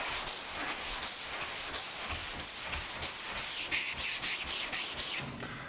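A sanding block with sandpaper rubs over car bodywork in quick, regular back-and-forth strokes, each a loud, close, hissing scrape, about a dozen in a row before stopping.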